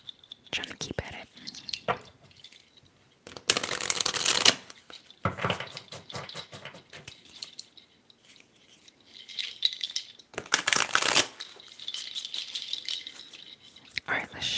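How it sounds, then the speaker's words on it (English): A brand-new, stiff tarot deck being shuffled up close, with bursts of crisp riffling and rattling card flutter separated by quieter handling, interspersed with soft whispered speech. "Alright, let's shuffle and see what we get."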